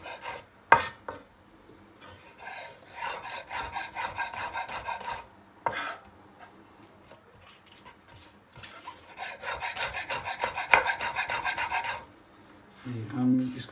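Knife slicing vegetables into fine julienne strips on a cutting board, giving steady rasping, scraping strokes in two long runs with a few sharper knocks, fairly close and alone, no talking.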